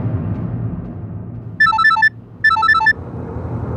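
A phone ringtone plays two short electronic melodic bursts with a pause between, heard over low background room noise in an indoor domestic scene.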